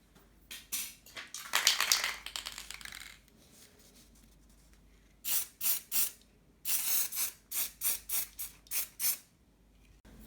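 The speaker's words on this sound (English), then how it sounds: "this part at the top I can spray paint a solid gold" Aerosol spray paint applied in solid gold to a Rocky Horror decoration, heard as a run of short hissing bursts near the mic, with a longer spray early on and quiet gaps between.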